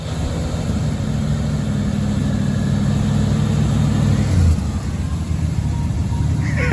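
An old abandoned farm truck engine runs steadily in four-wheel drive, a loud continuous close rumble with no pauses.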